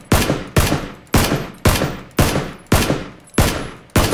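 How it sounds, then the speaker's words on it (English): Eight evenly spaced gunshots, each a sharp loud crack with a decaying tail, fired at a steady slow rhythm with no voices. "Is that one of us shooting? Yeah, I took shots at it."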